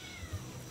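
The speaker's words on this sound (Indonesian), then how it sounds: "Kucing langsung meong." A cat gives a brief, faint meow indoors against a quiet background, short and soft.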